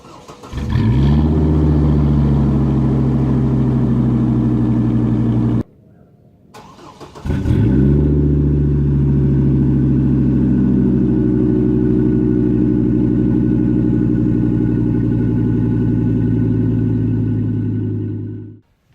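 A 2005 Chevy Colorado Z71 with a 3.5-liter five-cylinder engine and an aftermarket MBRP or Flowmaster Super 40 exhaust starts, cuts off, restarts and settles into a loud, deep, droning idle, close up, before shutting down.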